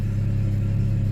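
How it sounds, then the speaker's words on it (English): A 2011 Chevy Camaro with an aftermarket exhaust runs steadily close by, giving a loud, deep, constant idle rumble with no voices. "This car's loud. Kids and their exhaust systems."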